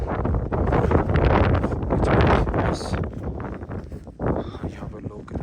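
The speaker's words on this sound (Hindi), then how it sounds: "हवा चल रही है" Wind buffets the microphone in loud, rumbling gusts during a winter drive in Spiti, with a person talking underneath the roar.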